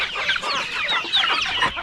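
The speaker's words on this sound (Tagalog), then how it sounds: "Pabo." Turkeys give rapid, busy calls that overlap, close and fairly loud, with no talking.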